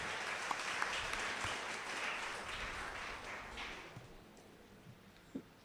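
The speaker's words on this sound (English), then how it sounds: "So let's give them a big round of applause." Audience applause after student debate presentations at a theological institute, a dense wash of clapping that holds steady for about four seconds, then thins out into a few scattered claps that fade toward the end.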